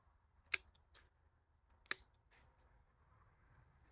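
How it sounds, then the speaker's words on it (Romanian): Pruning shears snipping water shoots off a lemon tree, two sharp distinct cuts about a second and a half apart plus a few faint clicks, close and otherwise quiet. "Acum vin și tai toți acești lăstari lacomi, îi tai undeva la o frunzuliță, două."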